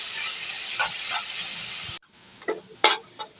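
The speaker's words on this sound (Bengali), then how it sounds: "এখানে আমি কিশমিশগুলো ভেজে নেব।" Raisins and carrots fry in a pan with a little salt and two spoons of sugar, giving a steady loud sizzle that drops off and then gives way to several sharp stirring scrapes.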